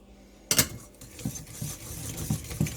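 Vanilla and milk are mixed into a pecan pie filling: a sharp clink at the start, then soft scraping and stirring strokes against a bowl, close and fairly quiet.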